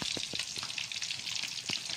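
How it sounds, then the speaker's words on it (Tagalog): Steady crackling sizzle of Indian mackerel and fusilier fish frying in hot oil, with sharper pops and spatters scattered throughout, close and continuous, no voices. "Prito lang tayo ng isda ngayon, fried fish,"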